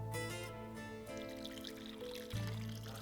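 Water poured from a vessel into a cerelac and milk mixture in a cooking pan, a soft steady trickle lasting about three seconds at close range with background kitchen hum.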